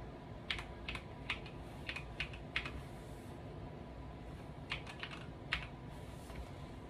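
Fast bursts of keystrokes on a keyboard while typing a password, two quick clusters of crisp clicks separated by a pause, close over a steady background hum, no voices.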